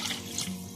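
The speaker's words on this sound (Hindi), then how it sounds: "अब इसमें मैं पानी डाल दूंगी।" Water poured steadily from a glass into a pot of rice for Punjabi chicken pulao, a continuous close splashing gush with no voices.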